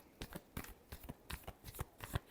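Tarot cards shuffled by hand in a quiet room, a quick run of soft papery riffles and taps in an uneven rhythm, close and faint, with no talking.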